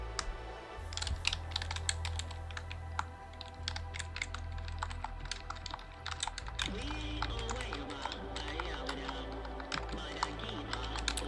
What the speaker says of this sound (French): Voici le clavier.